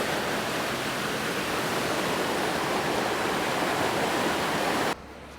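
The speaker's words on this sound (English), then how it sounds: "You got some current flowing through there. Look at it go." Strong river current on the Murray at Renmark, South Australia, rushing in a steady, loud broadband wash that cuts off abruptly near the end.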